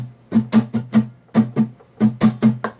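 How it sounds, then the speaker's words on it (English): Acoustic guitar strummed in a loose rhythmic pattern for a folk-pop song, about a dozen crisp strokes in uneven groupings with short gaps, close and fairly loud with no voice. "it has the strumming pattern, which sounds like this"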